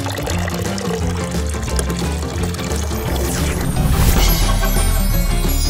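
In a cartoon bath scene, water pours and splashes steadily for several seconds, a busy liquid gush that swells into a louder splash near the end, with no talking.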